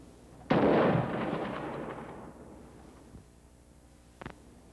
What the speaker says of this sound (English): I squeezed the trigger.